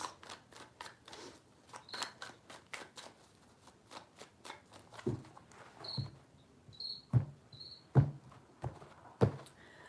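Quick, rapid riffling taps of tarot cards being shuffled, followed by a few separate louder slaps, with faint cricket chirps in the background.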